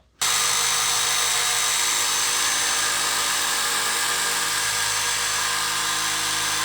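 A power tool cuts out an acrylic disc for a lens, producing a steady, loud, close whining roar that starts abruptly and holds almost unchanged to the end.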